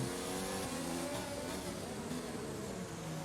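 Simulated Formula 1 car engine in an F1 racing game, revving hard under acceleration: a loud, continuous high-pitched whine that rises and shifts with the throttle, with no voices over it.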